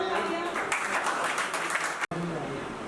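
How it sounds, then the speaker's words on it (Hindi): Applause for newly joined staff at an office opening celebration, a steady wash of clapping from a gathered group that runs throughout, with a brief dropout near the end and voices mixed in. "जोरदार तालियां"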